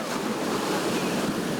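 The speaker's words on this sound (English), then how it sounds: "Waves, yeah, definitely." Ocean surf rolls steadily onto the beach at Carlsbad on a hot day, a dense continuous wash of breaking waves with some wind noise.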